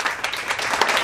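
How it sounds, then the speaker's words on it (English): Brief burst of clapping from a small group in a studio-style show setting, dense overlapping claps at moderate loudness with no talk over it. "This deserves a clap."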